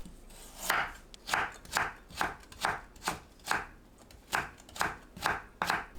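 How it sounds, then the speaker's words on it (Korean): A knife finely julienning carrots on a cutting board makes about a dozen crisp, evenly paced chops close to the listener, each a short sharp tap, with nothing else heard. "당근을 곱게 채 썰어주세요."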